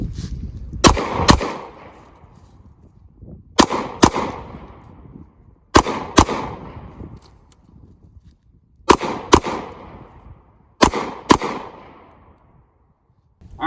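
Gunshots from a handgun in a self-defense shooting drill demonstration, fired in five sharp close pairs with pauses of a second or two between each pair.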